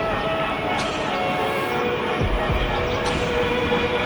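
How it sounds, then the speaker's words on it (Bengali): A train bound from Kamalapur, Dhaka to Narayanganj rolls past the Jurain level crossing as a dense, steady rumble of rail noise with faint squeals, set against busy outdoor street ambience. "এখন ট্রেন আসতেছে একটা, ঢাকা কমলাপুর থেকে নারায়ণগঞ্জের উদ্দেশ্যে"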